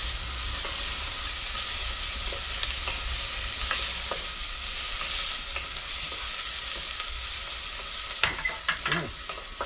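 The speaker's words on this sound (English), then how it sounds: "Let's get this onions cooked." Onions frying in a pan in a cabin kitchen, a continuous hissing sizzle with light spatula scrapes throughout, then a burst of sharper stirring clatter near the end, no voices.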